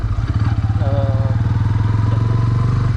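A Bajaj Pulsar N160 motorcycle engine thrums close by with a rapid, even pulsing beat, loud and steady as the bike rides along.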